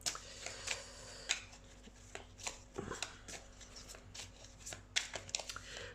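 Tarot cards being shuffled and drawn during a weekly tarot reading, giving a steady run of soft papery riffles and sharp card snaps, close and fairly quiet, with no talking.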